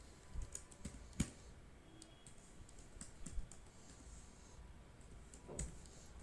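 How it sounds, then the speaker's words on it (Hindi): Soft, close keystrokes tap on a computer keyboard in uneven bursts, with a few sharper presses standing out, including the Enter key, in an otherwise quiet room. "और एंटर प्रेस कर देता हूँ।"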